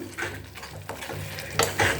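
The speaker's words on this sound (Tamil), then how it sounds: "அந்த கிண்ணத்தை கழுகி தண்ணி ஊற்றுறேன்" Clattering of a bowl against a pot with splashing and pouring water, close and moderately loud, in short bursts, as the bowl is rinsed and its water poured into a pot of pepper garlic kuzhambu.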